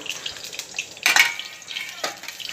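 Cumin and mustard seeds splutter in hot oil for a stuffed brinjal dish, with a low sizzle broken by two sharp, crackling bursts of popping, the louder one in the middle.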